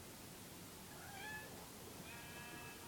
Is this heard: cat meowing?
yes